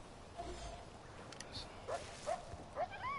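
Dogs in the Far Cry 4 video game chasing tapirs give short faint yips and barks in the distance, scattered over a steady outdoor game ambience.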